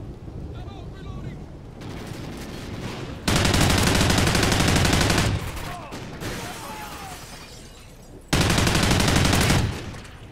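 Gunfire in the video game Ghosts: rapid bursts of automatic shots come in loud clusters, two long volleys separated by quieter stretches of distant firing.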